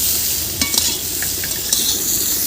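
Ghuti flat beans fried with salt give a loud, dense sizzle that stays steady throughout, with a few quick utensil clinks and scrapes close by and no voices.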